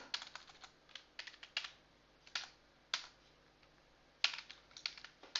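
Computer keyboard typed on while writing code, a run of quiet, irregular key clicks with short pauses between bursts, close and alone with no talk.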